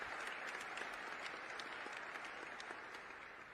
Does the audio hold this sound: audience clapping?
yes